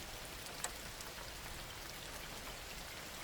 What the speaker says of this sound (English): the rain was falling hard on the asphalt, hitting the windshield of my truck